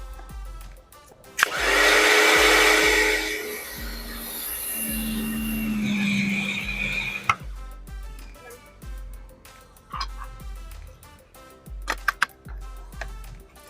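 A Karcher K 3 Car & Home mini pressure washer starts with a sudden loud whooshing spray that runs for several seconds, then cuts off, followed by quiet ticks and handling noises.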